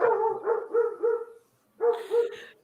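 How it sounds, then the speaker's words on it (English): A dog in the woods, as a sound effect, gives a rhythmic run of short, tonal barks or yelps, clear and fairly close, pauses briefly, then adds two more sharp calls. "And somewhere a dog howls in the wood."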